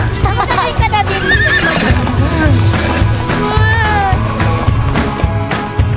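A horse whinnies loudly during horseback riding in Baguio, with clip-clopping hooves under busy background music and voices.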